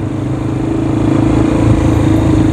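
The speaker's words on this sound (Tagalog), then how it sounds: "gumamit tayo ng motorsiklo sa ating pagbablog dito sa Maynila ngayon" A motorcycle rides through the streets along Taft Avenue in Manila, its engine a loud, steady, close drone that carries without a break and masks the surrounding traffic.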